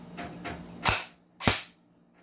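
A compact Sig Sauer airsoft rifle fires two sharp shots about half a second apart during a chronograph velocity test, each a loud, close crack that dies away quickly. A faint clicking underneath comes before the shots.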